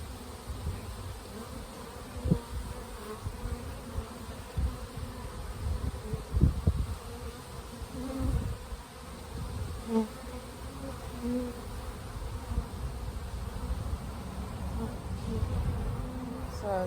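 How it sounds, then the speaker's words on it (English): Honey bees buzz steadily around an open beehive during an inspection, a close, continuous hum with individual bees droning past, plus occasional soft knocks and handling sounds from the frames. "So there's still some bees bringing pollen in"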